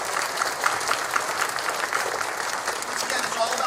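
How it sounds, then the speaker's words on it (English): Steady applause from an audience at a public event launching a statewide school attendance program, a dense even wash of clapping lasting several seconds with a voice faintly present beneath it. "let's give them a round of applause as well."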